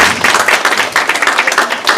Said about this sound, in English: Let's give Dorcas another round of applause.